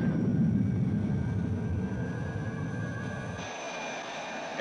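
Chemical rocket engines firing on a launching spacecraft in a 1960s science-fiction film: a loud, steady roaring rumble that fades slightly toward the end, with no voices.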